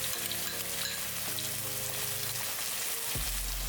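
Chili paste sizzling and frying steadily in a hot pan while being sautéed for a crispy sweet and sour sea bass dish, with a continuous close crackle and occasional stirring, and no talking.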